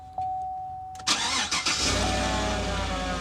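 A car engine cranks and catches with a couple of starter bursts, then settles into a steady loud idle, close by, after a quiet hum.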